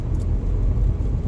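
Car interior on a drive to work in the afternoon: a continuous low road rumble and engine hum, steady and close, with no talking.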